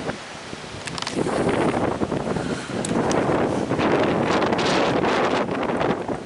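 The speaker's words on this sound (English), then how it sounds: "these days the wind noise has been just unavoidable" Heavy hurricane wind buffets the microphone in gusts aboard a sailboat, rumbling and roaring with uneven surges, with faint rustling underneath and no voices.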